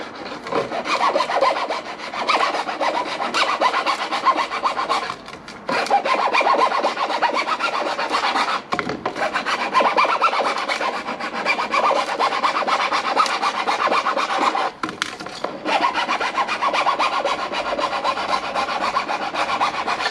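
A hand file chamfers the cut edge of a plastic soil pipe, making continuous close, loud rasping strokes with only a few brief pauses.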